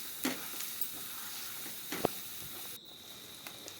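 Onion, ginger and garlic fry with ground turmeric, coriander, chili and cumin and a splash of water, giving a faint, steady sizzle with a few soft knocks of stirring up close.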